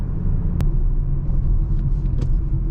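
An Audi A7 Premium Plus with Quattro all-wheel drive runs with a low, steady engine rumble from inside the car, broken by a couple of sharp clicks.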